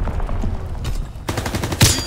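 Gunfire from a weapon in the World War II shooter Call of Duty: WWII, several sharp shots in quick succession over steady game background noise, with one louder burst near the end.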